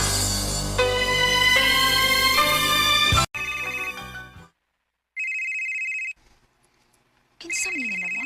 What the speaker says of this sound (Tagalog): Bianca, kasaba ba ng cellphone ni mo? Uy, nagsige mo nagbagting